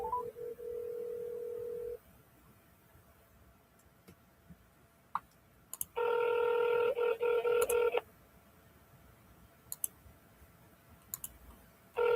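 Telephone keypad tones from a real estate cold-calling session: a two-second dial tone, then quiet with faint clicks, then a longer burst of fast DTMF key tones around six to eight seconds, followed by scattered ticks.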